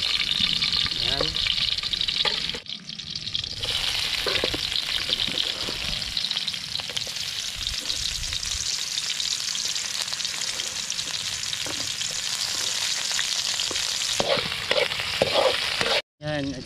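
Garlic frying for dinuguan, a loud, close, continuous crackling sizzle that runs nearly unbroken with a few short drop-outs, and a voice speaking over it at times.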